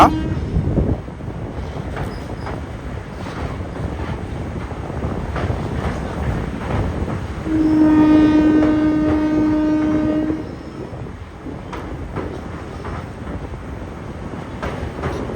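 A train rumbles steadily along with clattering rail noise on the Madurai to Rameswaram line near Pamban, and a loud horn blares for a few seconds partway through.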